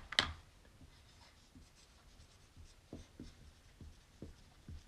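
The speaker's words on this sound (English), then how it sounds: "I need to write a quote saying, hey, I will practice my handwriting" A pen writing on paper, faint and close, with a sharp scratch at the start followed by a series of soft, evenly spaced strokes and no one talking.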